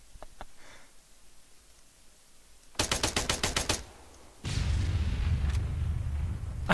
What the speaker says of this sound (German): Jetzt explodiert eins nach dem anderen.